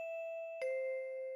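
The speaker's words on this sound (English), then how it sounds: "Sounds like a school bell." A school bell chime in the video game Goddess of Victory: Nikke, clean electronic bell tones ringing in two steady sustained notes, close and clear.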